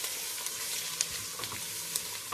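Steady sizzling and crackling of carrots frying in sunflower oil in a pan with onion, with occasional louder pops, no voices.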